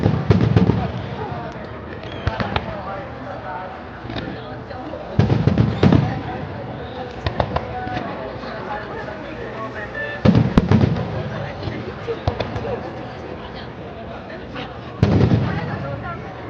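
Fireworks burst repeatedly in loud, booming volleys with crackling in between, a continuous barrage at close range with people's voices faintly audible underneath.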